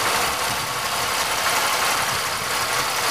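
A warmed-up GM 3100 V6 engine idles steadily up close, a continuous even rumble with faint ticking and no voices over it.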